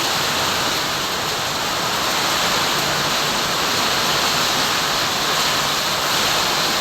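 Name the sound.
heavy nonstop rain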